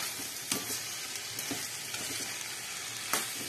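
Vegetables for ginisang gulay sauté in a hot pan with a steady, even sizzle and occasional stirring scrapes and clicks, moderately quiet and close, with no talking.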